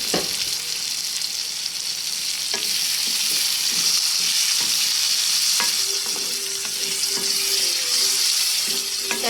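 Dried Bombay duck (loitta shutki) fries in a pan with a loud, continuous close sizzle, punctuated by repeated scraping and clinking stirs of a spatula.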